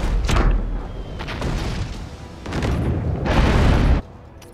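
Ship cannons fire in the naval combat game Abandon Ship, sounding as several loud, booming blasts with rumbling tails, including a long heavy burst near the end.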